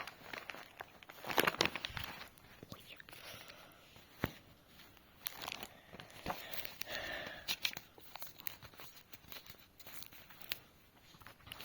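Paper surprise packet being torn open, a series of crisp rips and crinkles at close range with quieter rustling between them, no talk.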